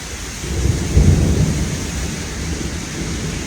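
Heavy rain pours outside during a thunderstorm, a dense steady hiss with a deep rolling rumble of thunder swelling near the start and fading into the downpour.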